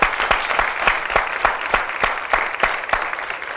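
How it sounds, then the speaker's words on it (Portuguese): Studio audience at a televised Portuguese debate show applauding the guests, with steady, rhythmic clapping that holds at an even level throughout. "um grande aplauso para os nossos convidados"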